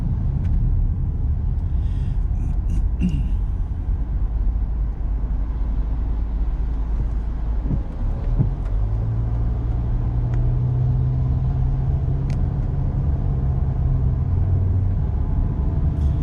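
A car towing a caravan slows in traffic, gently braking off the gas: a steady low engine and road rumble fills the cabin, with a faint tonal hum rising near the end and no voices.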